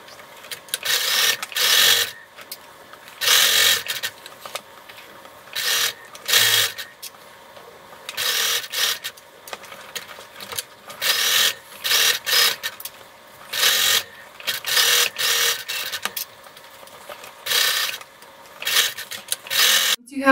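A sewing machine stitches bias binding onto a fabric bowl cozy. Loud, steady runs of whirring stitching repeat in bursts, broken by short pauses, with no voice over them.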